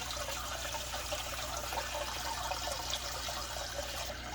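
RODI water trickles steadily from a filter into a container for a saltwater aquarium, a faint continuous dribble and hiss with a low hum underneath.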